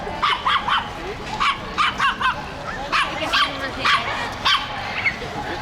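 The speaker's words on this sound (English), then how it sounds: "It's a lot of happy dogs right here." Many dogs bark and yip repeatedly in an off-leash dog park in La Condesa, Mexico City, with a chorus of sharp, moderately near barks coming in irregular bursts over a background of outdoor noise.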